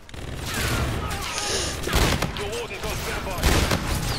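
Rapid bursts of gunfire in Call of Duty: Infinite Warfare, dense automatic volleys with a few heavier booms, loud and close throughout, with a voice shouting over parts of it.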